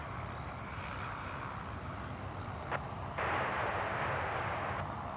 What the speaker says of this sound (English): We have our Kiwi friends getting out now here at New Zealand 102, runway 16 left, clear for takeoff